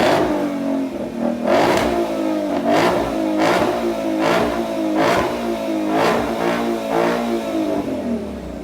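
A 2020 Ford GT500 in its quiet good neighbor exhaust mode holds a steady, muted idle broken by a regular series of short, sharp blips, about one per second, close with no talk.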